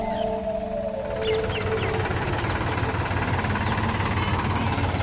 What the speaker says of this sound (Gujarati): નદીની અંદર ટ્રેક્ટર ઊભું રાખ્યું છે